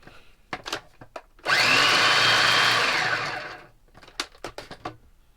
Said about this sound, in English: Then we're going to give that a little blitz.